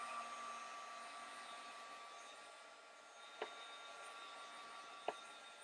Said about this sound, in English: I'm just going to dry this piece up so I can stamp.